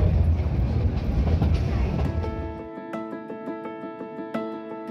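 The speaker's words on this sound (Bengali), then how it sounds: "ডেলভাডা এমজি প্যাসেঞ্জার ট্রেন, মিটার গেজের ট্রেন এটা।" A Delwada meter-gauge passenger train rumbles past on the rails, heavy low clattering for a couple of seconds, then a long sustained horn blast with rhythmic wheel clicks beneath, close and fairly loud.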